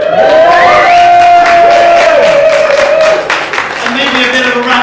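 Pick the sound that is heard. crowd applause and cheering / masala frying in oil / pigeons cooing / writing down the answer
crowd applause and cheering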